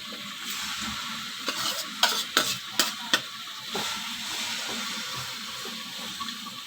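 Spinach sautés in ghee in a pot, a soft continuous sizzle with a short cluster of sharp spoon scrapes and knocks near the middle, close but fairly quiet, with no speech.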